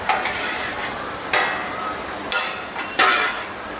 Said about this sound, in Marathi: तर आता मी झाकण उचलून चेक करतो